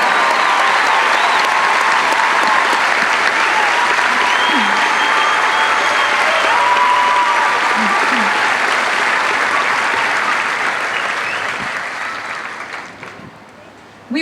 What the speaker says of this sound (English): How about a nice round of applause for all of our honor graduates?